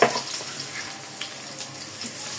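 Chopped onion fries in a pan of hot oil with cinnamon and bay leaf, giving a soft, steady sizzle with no one speaking.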